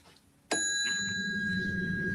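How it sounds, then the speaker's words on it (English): A single sharp ding from a hotel lobby desk bell, ringing out clearly and close, then sustaining a bright lingering tone that slowly decays. "I was just playing with the bell."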